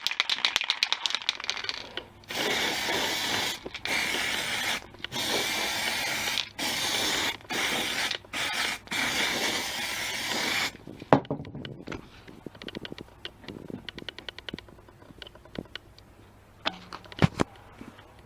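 An aerosol can sprays paint onto a wind turbine rotor disc resting on a hot halogen lamp, with loud hissing bursts broken by short pauses, then quieter clicks and rattles afterwards.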